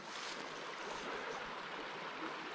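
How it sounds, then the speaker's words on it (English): Water rushes steadily across the Sipsey Fork ford in the Sipsey Wilderness, Alabama, a continuous broadband wash of stream flow, close and even with no voices. "So, nice flow of water today, but it would be crossable."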